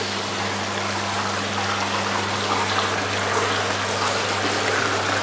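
Water circulates steadily through a marine aquarium filter packed with Marine Pure media alongside a protein skimmer, producing a continuous trickling, streaming wash with a low pump hum beneath, loud and unbroken throughout.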